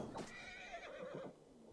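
A horse in Assassin's Creed Valhalla gives one quavering whinny lasting about a second, heard alone and fairly faint as a game sound effect, with a soft low rumble behind it.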